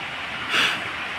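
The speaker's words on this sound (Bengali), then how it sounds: "বৃষ্টি হচ্ছে" Steady, heavy rain hisses evenly throughout in darkness with lightning, swelling briefly louder midway, with no voices.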